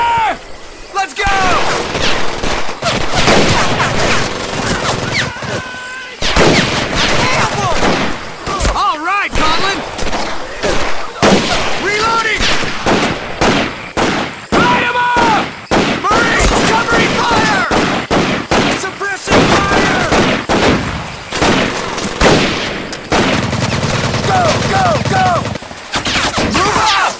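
Dense World War II gunfire in the video game Medal of Honor Pacific Assault at Makin Atoll, with rapid machine-gun bursts and rifle shots crackling almost continuously, loud and close, while shouting voices mix in.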